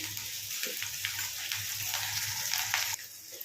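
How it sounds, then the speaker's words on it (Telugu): Ginger garlic paste and onion fry in a pan with a soft, continuous sizzle and faint stirring, with no voices. "అల్లం వెల్లుల్లి ఉల్లిపాయ మంచిగా ఫ్రై చేసుకోండి."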